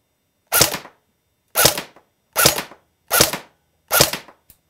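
A GSG 522 RIS blowback AEG airsoft rifle fires five separate sharp, snappy shots at a target range, evenly spaced about a second apart, with no voices over them.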